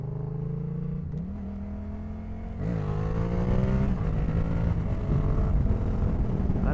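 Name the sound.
motorcycle engine revving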